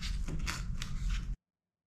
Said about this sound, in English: these aren't the best scissors in the world for cutting fabric